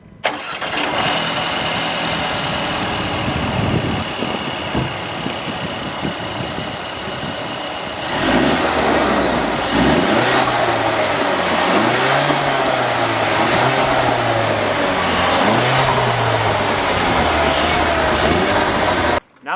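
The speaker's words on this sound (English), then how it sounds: "Now that we've heard how the engine sounds, and it sounds pretty good" A 2018 Mercedes-Benz CLA 250 4MATIC coupe's 2-liter turbocharged four-cylinder runs steadily at idle, then catches several sharp revs that rise and fall in a rhythmic series, loud and close with no talking.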